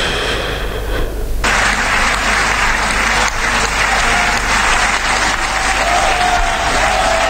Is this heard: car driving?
no